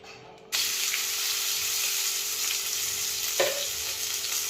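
Sliced onions drop into hot oil for a fish curry and sizzle hard, a bright continuous frying hiss that starts suddenly, with a brief stir or clatter partway through.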